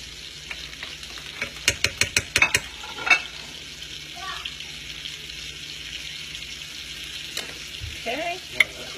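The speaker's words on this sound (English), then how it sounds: "now that those have a nice simmer on it, we're going to put in some minced garlic" Scallops cook in a pan with minced garlic, making a soft sizzle and bubbling, with a quick run of metallic taps and scrapes from a utensil early on and a few more later.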